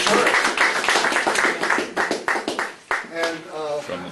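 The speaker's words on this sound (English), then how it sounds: "let's give a big round of applause to the Turners for" A crowd claps and cheers for the Turners at a welcome and introductions event, a dense burst of applause that thins out toward the end while voices rise over it.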